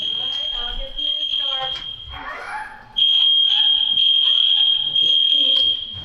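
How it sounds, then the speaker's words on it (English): A shrill, continuous fire alarm tone blares, briefly dropping out as a person speaks, then returns louder and steady. "we have fire alarms go off"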